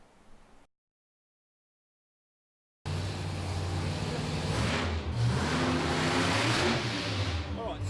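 After a brief silence, a car engine revs in rough, noisy driving footage, with loud hiss and static and voices talking over it.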